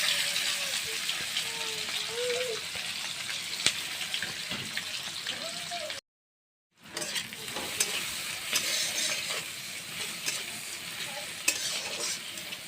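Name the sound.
chopped onion and garlic frying in oil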